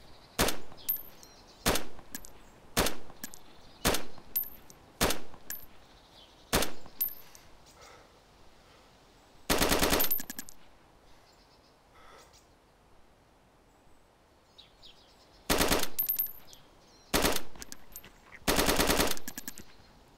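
An M4 rifle in the DayZ video game fires from the shooter's own perspective, sharp single shots at a steady pace followed by longer sustained bursts of automatic fire, close and loud, with quiet gaps between.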